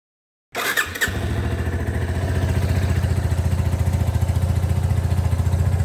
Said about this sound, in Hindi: चलिए इंजन को स्टार्ट करके देखते हैं कि इंजन से कैसा साउंड आ रहा है